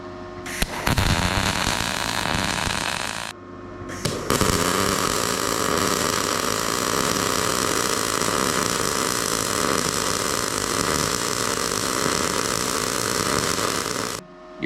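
MIG welding a circular bead, heard as a loud continuous crackling hiss that starts, halts briefly after a few seconds, then resumes and runs steadily for about ten seconds before cutting off.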